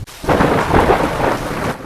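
Heavy rain pours down with thunder, a loud, dense roar of rainfall and deep rumbling that swells in after a brief quiet moment and stays steady, with no voices.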